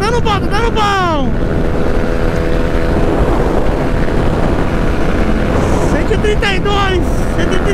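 A Honda Fan 125 motorcycle with a 4 mm oversize piston running flat out on a highway, its engine a loud constant drone under heavy wind roar, with a voice talking over it near the start and the end.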